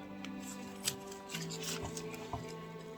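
Snips of scissors or shears cutting through a frost-damaged orchid plant, a few crisp close clicks and rustling rubs of dry papery leaves, soft and steady with no talking.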